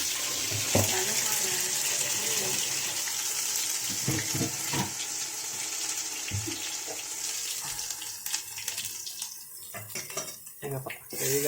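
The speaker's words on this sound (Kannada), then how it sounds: "ಇದಕ್ಕೊಂಚೂರು ನೀರು ಹಾಕು" Water runs steadily into a biryani pot with whole spices in oil, cooked on a sunny day, while metal pots and utensils clank now and then through the flow.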